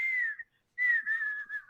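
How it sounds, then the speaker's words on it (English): A person whistles a tune alone, a clear bright melody broken by a short pause before a longer sustained stretch, close and fairly loud. "I have this tune that I just like to whistle all of a sudden."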